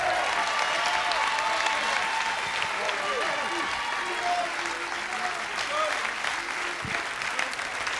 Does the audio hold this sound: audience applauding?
yes